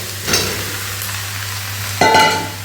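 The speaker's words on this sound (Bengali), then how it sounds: "নাড়াচাড়া করে ভাজা ভাজা করে নেব" Potatoes, tomato and green chilli for a Bengali potato curry fry in a pan over a steady low hum, broken by two scraping stirs, one brief and one longer.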